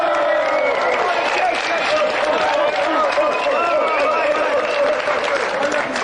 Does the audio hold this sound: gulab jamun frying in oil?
no